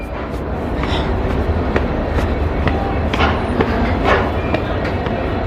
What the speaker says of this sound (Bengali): প্রচুর লম্বা ট্রেন গাইস, প্রচুর লম্বা ট্রেন।